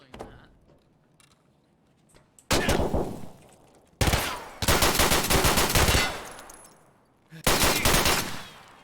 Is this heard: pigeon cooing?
no